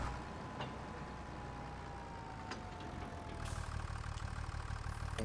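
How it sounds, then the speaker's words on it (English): In Farming Simulator 25, a tractor idles in a steady, continuous rumble that grows slightly louder and rougher toward the end, with faint clicks and no talk. "getting out of this shed with this tractor"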